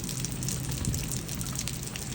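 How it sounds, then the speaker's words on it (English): Large hail pelts down in a thunderstorm, a dense, continuous clatter of ice striking surfaces without a break. "good hail falling. Large hail."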